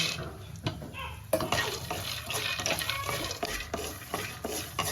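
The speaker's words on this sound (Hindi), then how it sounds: "इस तरह से मूंगफलियों को भूने" Peanuts roasting in ghee in a kadhai over a low to medium gas flame, stirred with repeated scraping and rattling strokes over a soft sizzle, fairly close.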